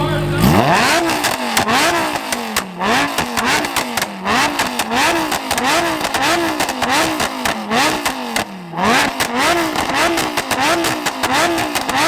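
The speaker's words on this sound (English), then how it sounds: "That was a loud two-step right there." A fully tuned Lamborghini held on two-step launch control at a car show, its engine bouncing off the limiter in rapid, rhythmic crackling pops, very loud and close, with a brief dip partway through.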